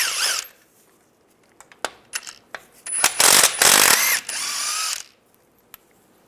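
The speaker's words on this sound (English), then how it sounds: "Now there's two bolts on this side, use an 18mm socket," An 18mm socket tool removes differential bolts on a 2007-2013 Chevy Silverado, with a few scattered metallic clicks followed by a loud, whirring run of about two seconds that breaks off and resumes briefly.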